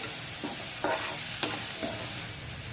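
Tawa idli pieces frying in a hot pan, a soft steady sizzle with a few scraping stirs and one sharp clink of the spoon, and no one speaking.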